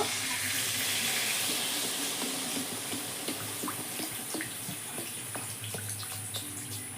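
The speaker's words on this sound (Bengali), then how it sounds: "এবার আমি ঝোলের জন্য জল দিয়ে দেব।" Water poured from a vessel into a pan of spiced lentil fritter curry with egg, a steady broadband splashing stream with small clinks, moderately loud and close throughout, no voices.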